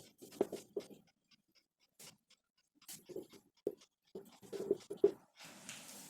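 A definition of soil being written down in a geography lesson, heard as sparse, quiet, close strokes and taps in short irregular clusters separated by near-silent pauses.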